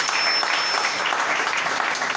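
A crowd applauds in acclaim for a king, a steady dense wash of clapping held at even loudness from start to finish.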